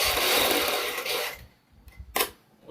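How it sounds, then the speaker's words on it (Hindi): A sewing machine stitches the neckline of a kurti, starting from the centre: a dense, steady whirring run that stops at the halfway mark, followed by quiet with a few brief clicks and a short burst. "इस तरीके से हम सबसे पहले सेंटर से यहाँ से सिलाई शुरू करेंगे"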